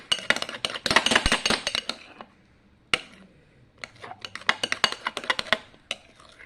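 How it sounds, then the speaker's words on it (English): Homemade slime being stirred in a bowl, giving bursts of clinking, tapping utensil-on-bowl sounds and wet clicks, close and fairly loud, with a short pause in the middle before the stirring resumes. "Give me a moment to mix this."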